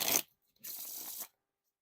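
Art of Play Cardistry-Con playing cards being riffled, with two short crisp bursts of shuffling separated by a brief silence, close and clear.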